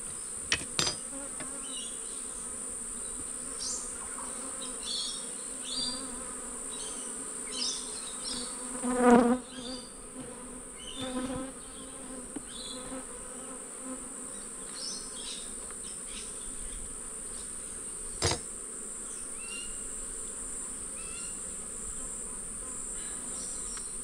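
Honey bees buzz steadily at close range while a beehive is opened for inspection, a dense droning hum with a few louder swells and brief handling knocks, and no voices.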